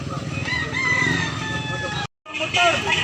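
A yellow-legged gamecock for sale at a Carbon market in Cebu crows loudly and close by, its long strained call running under steady crowd chatter and clucking, broken by a brief dropout.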